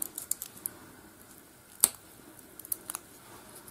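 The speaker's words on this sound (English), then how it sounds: "Just get your scissors and trim it down" Small scissors snip the excess off a mini wrapped candy craft embellishment, giving a few sharp, quiet clicks scattered over a few seconds with one louder cut in the middle.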